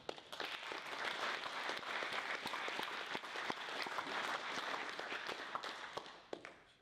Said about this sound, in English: Just one round of applause.